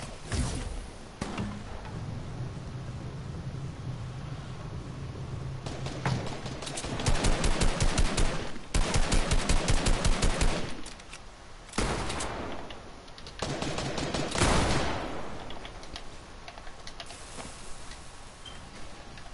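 Rapid bursts of video game gunfire crackle in clusters, some dense and loud, others thinner and more scattered, with brief gaps between volleys and a steady background hum throughout.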